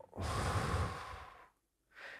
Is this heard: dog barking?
no